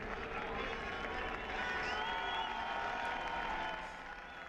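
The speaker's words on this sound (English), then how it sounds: "And that's what the crowd think about Marc Marquez." Crowd applause and cheering at a Moto2 motorcycle race, a steady broad wash of clapping and voices at some distance, swelling in the middle and easing off toward the end.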